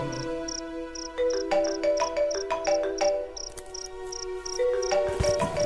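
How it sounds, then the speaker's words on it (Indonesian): A mobile phone rings with a melodic, repeating electronic ringtone tune, steady and fairly close, with a few brief higher beeps mixed in. "handphoneku berdering."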